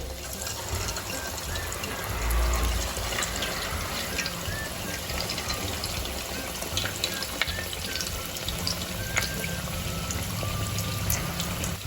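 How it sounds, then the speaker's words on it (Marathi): Bread rolls deep-frying in hot oil over a medium flame in a home kitchen: a continuous, close, bubbling sizzle at an even level with small crackles throughout. "आता आपण याच्यामध्ये रोल सोडून घेऊया आपल्याला हे मीडियम फ्लेमवरती तळून घ्यायचे आहे"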